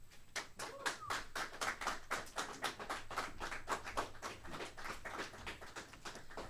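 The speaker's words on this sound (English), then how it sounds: "Let's give him another round of applause" Audience applause following a talk at a lecture series in Erie, with many hands clapping in a steady, even patter that holds at a moderate level throughout.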